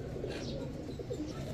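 Blue Magpie pigeons coo softly in a low, continuous murmur, close by and fairly quiet, with a few faint chirps.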